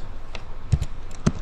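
A few light clicks of keys on a computer keyboard, close and sparse, with one firmer press near the end.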